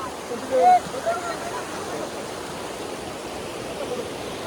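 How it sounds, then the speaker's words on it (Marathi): Steady broadband rush of a waterfall, continuous and fairly loud, with a brief high tonal chirp near the start. "आमच्याकडे धबधबा तर आहे धबधब्यासारखं आहे अशी नदी नदीसारखं आहे"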